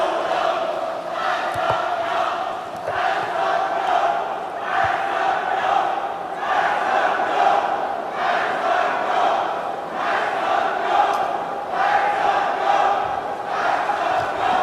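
Supporters in the stands of a party's joint campaign rally chant a candidate's name in loud, rhythmic bursts, a small but forceful crowd shouting repeatedly for about fifteen seconds.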